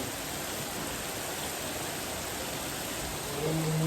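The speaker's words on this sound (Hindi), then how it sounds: "आप देखो कितनी तेज़ बारिश हो रही है" Heavy, steady rain pours down in the Shimla–Kufri–Chail area of Himachal Pradesh, a dense continuous hiss that fills the whole span at even loudness and rises slightly toward the end, with no talking over it.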